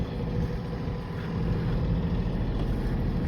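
A sailing boat motors under engine power on the Solent in light, variable wind, its steady low engine drone and water rush continuous and fairly loud throughout, with no talk.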